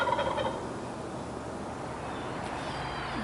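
A tom turkey gobbles in a neighbourhood in spring with a quick, warbling burst right at the start, then the call gives way to a steady outdoor background hiss.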